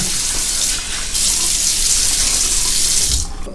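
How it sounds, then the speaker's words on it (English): A bathroom tap pours hot water into a sink before shaving, a loud, steady gushing rush with a brief dip early on, then tapering off at the end. "Just a little more hot water."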